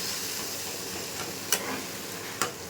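Taro greens with chickpeas sautéed dry in a pan, a low continuous sizzle broken by two distinct spoon scrapes or taps against the pan.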